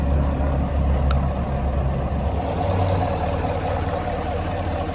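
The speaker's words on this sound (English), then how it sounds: "Engine runs nice, smooth right here." Engine of a wrecked 2019 Chevrolet Camaro SS running smoothly, a steady low rumbling idle heard up close and fairly loud throughout, with no talking over it.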